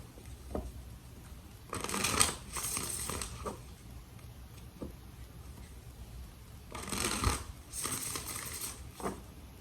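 Tarot cards being riffle-shuffled in two bursts of brisk flapping, close and fairly quiet, with a few soft taps in between.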